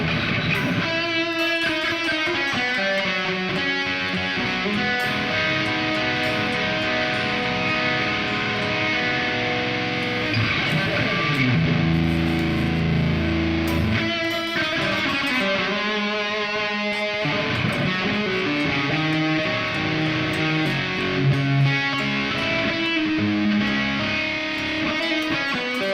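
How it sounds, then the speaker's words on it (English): An electric guitar plays distorted chords and riffs through a Nembrini Audio BST100 Super Overdrive with an EOS 2 stereo plate reverb, the notes ringing out with a lingering wash, loud and continuous with no talking. "Change it over to stereo plate on EOS 2 here"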